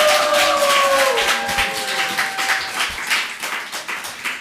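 A church congregation at a thanksgiving service claps steadily and fairly loudly, a rhythmic wash of hands continuing as a lingering musical tone fades beneath it.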